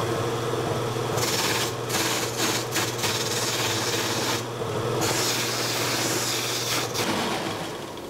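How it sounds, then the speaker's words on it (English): A wire brush spins on a woodturning buffing setup, giving a steady, loud rushing whir with a low motor hum underneath and brief scratchy dips as work touches the brush. "I just got a wire brush right there."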